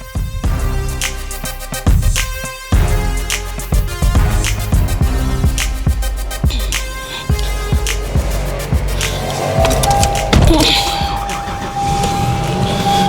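A customized 1990 Lexus LS400 engine starting up and settling into a steady idle, loud and close, with a bright whine rising near the end.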